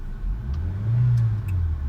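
A Mitsubishi Lancer 1.6 engine revs up steadily, its low growl swelling louder through the middle and then easing off slightly, close by with no talking.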